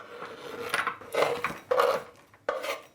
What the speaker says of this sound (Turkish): Beyaz çikolatayı da kaseye alıyorum.